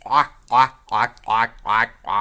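A human voice imitates a crow or duck, giving six loud, nasal quacking caws in a steady rhythm, each separated by a short pause.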